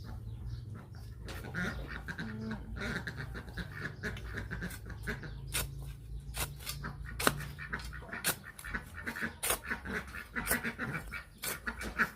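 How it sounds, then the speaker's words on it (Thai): Ducks quack repeatedly in a noisy outdoor setting, overlapping calls over a steady low rumble, moderately close and continuous throughout. "ก็เลยได้ยินเสียงเป็ดอะไร"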